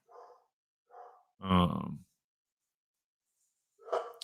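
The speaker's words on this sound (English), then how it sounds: "my dog's barking" A dog gives a few short barks and a louder, gruff bark, separated by pauses, fairly close by.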